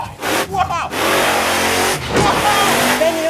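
Big truck engine revving in a TV commercial, a loud mid-pitched roar that climbs and holds, alongside speech.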